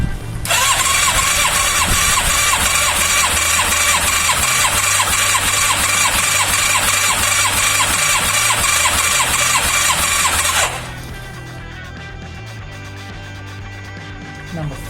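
A Yamaha FZR 1000 EXUP motorcycle engine, under restoration, is run at full throttle on its second cylinder: a loud, steady, high-pitched roar holds for about ten seconds, then drops away to a quieter idle-like hum.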